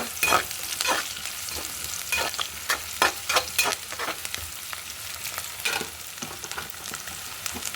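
Green chillies and onion fry in a pan, crackling and sizzling steadily under repeated scrapes and knocks of a spoon stirring.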